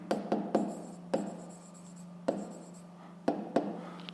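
Pen writing maths on paper during a fifth-grade exercise, with a handful of short scratchy strokes in bursts over a steady low hum, close and fairly quiet.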